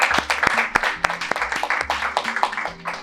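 An audience at a career-success talk claps for the speakers, giving a short spell of distinct, fairly sparse claps with a faint tonal hum underneath.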